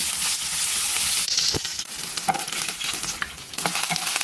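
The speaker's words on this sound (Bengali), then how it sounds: "এবার আমি মোচার কলিগুলোকে ব্যাটারে চুবিয়ে গরম তেলে ভেজে নেব।" Battered banana flower florets frying in hot oil: a continuous bubbling sizzle with crackles, interrupted by a few clinks and stirring sounds.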